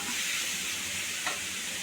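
Beetroot for beetroot rice sizzles steadily in a hot pan, with a brief soft scrape of stirring partway through.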